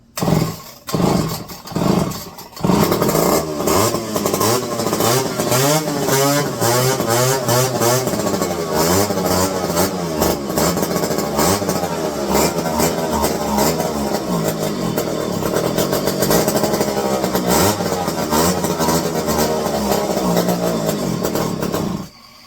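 A McCulloch 5-10E electric-start chainsaw engine sputters through a few brief bursts, then catches and runs steadily at a loud, close idle with fluctuating revs for most of the clip.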